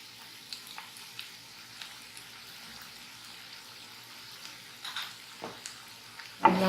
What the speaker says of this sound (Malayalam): നന്നായിട്ടൊന്ന് വഴറ്റി വരട്ടെ